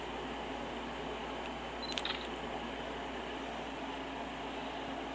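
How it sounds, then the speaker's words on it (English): Canon PowerShot S31S compact camera firing its shutter, a quick cluster of faint mechanical clicks near the middle, set against a steady hum of room noise. "It's got a nice shutter."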